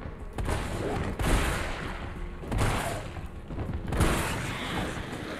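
Heavy gunshots in the survival horror game Resident Evil 3, several booming blasts spaced a second or so apart, each with a long rumbling tail over continuous in-game noise.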